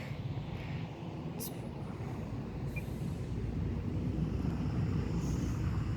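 An Air Tractor agricultural plane on its maiden flight passes overhead, a steady loud engine drone holding level for the whole stretch with a faint high whine above it.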